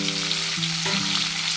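Tomato and green chilli dropped into hot oil with half a teaspoon of cumin, giving a loud, steady, close sizzle with a faint humming tone underneath, brief and without talk.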